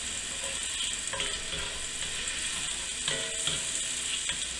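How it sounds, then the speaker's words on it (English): Bacon fries in a cast iron pan with a steady, moderately quiet sizzling hiss and faint crackles, a few light utensil clicks sounding over the constant spatter. "we've already got our bacon in the pan here"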